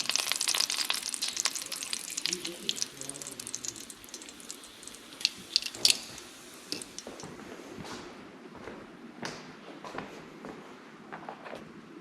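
Food sizzles and chars in a pan before potatoes go in, a steady close crackling hiss with scattered pops and brief scraping, fading slightly toward the end.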